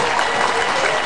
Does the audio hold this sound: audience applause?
yes